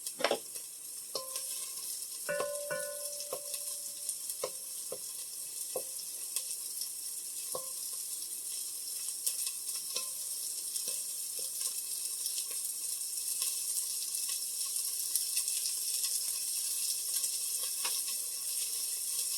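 Onions frying in a Dutch oven, a steady sizzle with scattered sharp scrapes and utensil clinks early on, settling into a continuous even hiss.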